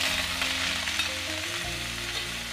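About 15 grams of lard sizzles hot in a wok for a Shanghai stir-fry, a dense, even hiss that holds steady throughout with no speech.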